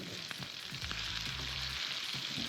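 Steak frying in a pan at a campsite, a steady close sizzle running throughout with a low hum swelling briefly in the middle.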